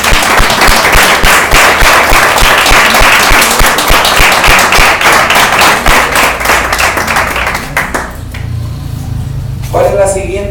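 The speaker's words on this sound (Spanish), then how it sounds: "¿Puedes darle otro aplauso a Dios?" A church congregation bursts into loud, sustained clapping and applause for several seconds during a service before it tapers off, with a voice speaking at the end.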